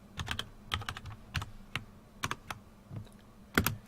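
Keys tapped on a computer keyboard in irregular bursts of quick clicks with short pauses, close and clear with no talking, while HTML form code with input tags is typed.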